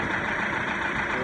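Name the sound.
Mercruiser boat engine idling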